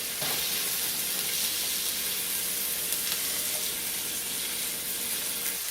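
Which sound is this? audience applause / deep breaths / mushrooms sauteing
mushrooms sauteing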